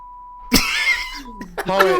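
A thin steady electronic-like tone hums briefly, then a person talks and vocally mimics a high beep between bits of speech.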